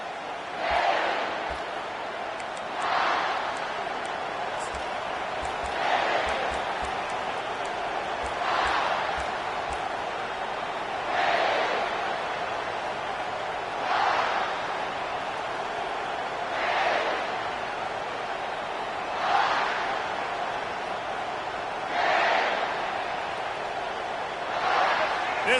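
Home crowd at a Rutgers vs South Carolina college football game roars in steady waves, swelling in regular loud surges about every two and a half seconds over a constant stadium din, with no distinct talk.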